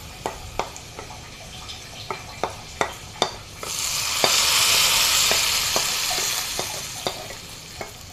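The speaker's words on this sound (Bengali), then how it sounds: "এখন বাগারটা দিয়ে দিচ্ছি।" Hot tempering poured into a ridge gourd curry with prawns and lentils: a few spoon clinks and taps, then a loud, spreading sizzle that rises and slowly settles while occasional clinks continue.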